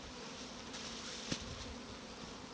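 Quiet, steady buzzing of many honey bees on a hive frame close by, a continuous hum with a brief click partway through and no talking.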